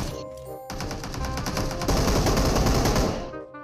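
Heavy automatic gunfire in a shooting video game, a loud continuous burst of rapid shots filling the whole stretch with no pauses.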